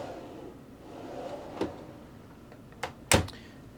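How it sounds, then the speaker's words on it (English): Deep storage drawers in the galley of a 2009 Prevost Liberty H3-34 luxury coach open and shut, giving a few brief knocks and one louder slide-and-thump near the end over a quiet interior. "Nice deep drawers for any silverware, any small items that you need to store in there as well."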